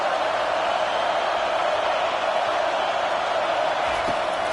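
Steady stadium crowd roar during an NCAA 25 college football video game, a dense continuous wash of cheering that holds loud and even throughout, with no distinct voices standing out.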